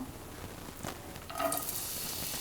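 Chopped onion hitting hot oil in a pan, a quiet background hiss that swells into a louder, brighter sizzle partway through and holds steady, with no speech.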